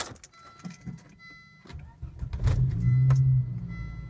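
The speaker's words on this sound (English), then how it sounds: "I'm gonna go ahead and start the car." A Volvo 850 car starts after some interior clicks and rustling, the engine catching and settling into a steady low idle rumble with a faint whine, close by.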